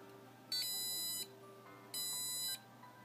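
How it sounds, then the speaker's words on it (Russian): An Arduino buzzer alarm, triggered by an HC-SR04 distance sensor, gives two shrill electronic beeps, each about half a second long and about a second and a half apart, over a faint steady hum. "Приближаясь к 5, сработала сигнализация."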